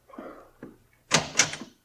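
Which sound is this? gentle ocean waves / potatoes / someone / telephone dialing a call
someone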